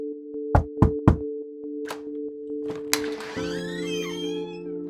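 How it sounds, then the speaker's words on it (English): Three sharp knocks on a door, close and evenly spaced, rap out over a steady tonal hum, followed by a few softer taps and a rising musical swell. "By evening, there was a knock on the door."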